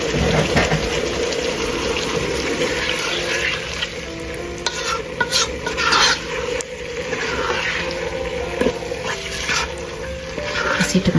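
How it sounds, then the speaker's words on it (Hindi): Masala sizzles and fries in a pan with tomatoes for a chicken dal dish, a steady close crackle with scraping stir strokes and faint background noise throughout. "इसका मसाला भून के इसमें टमाटर डाल देते हैं।"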